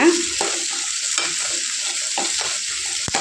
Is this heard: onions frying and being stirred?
yes